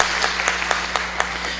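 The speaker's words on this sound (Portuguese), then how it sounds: "Uma salva de palmas, professora Maria Lúcia." A room full of people gives a short burst of applause, with crisp claps standing out over the broad wash and a steady low hum running underneath.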